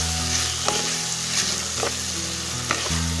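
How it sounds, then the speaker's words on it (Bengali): A paste of cumin, radhuni and poppy seed stirred in a pan over raised flame, a strong steady frying sizzle with regular spatula scrapes every half second or so, close with a low hum beneath. "জিরে, রাঁধুনি ও পোস্ত বাটাটা এর মধ্যে মিশিয়ে দিলাম, দিয়ে ফ্লেমটাকে একটু বাড়িয়ে ভালো করে চারিদিকে মেশাতে হবে"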